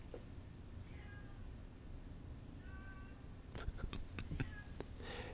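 A cat gives a few faint, drawn-out meows at a distance over a low room hum, followed by some soft tapping and rustling.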